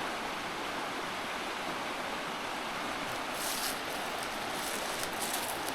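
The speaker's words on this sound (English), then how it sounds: "Sandy Creek is right below us." Sandy Creek rushes below in a steady, broadband roar of flowing water, continuous and fairly loud with no voices.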